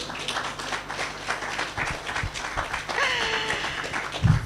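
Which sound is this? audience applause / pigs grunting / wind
audience applause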